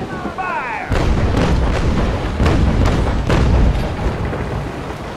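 Ship cannon fire in Naval Action, with a rapid broadside of heavy booms, about six or seven loud blasts in quick irregular succession over rumbling sea and battle noise, after a voice calls out.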